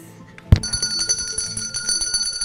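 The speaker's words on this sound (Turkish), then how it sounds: "mavi masa zili salladınız ilk başta çalmadı" A single bright ding from a blue table bell rings out, leaving a lingering metallic tone over faint background noise.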